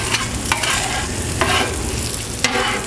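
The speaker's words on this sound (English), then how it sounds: "Now we're going to go ahead and crisp up this bacon a little bit." Bacon frying and crisping on a Blackstone flat top griddle, a steady broad sizzle with a few sharp scrape-like clicks of a utensil against the hot steel, close and fairly loud throughout.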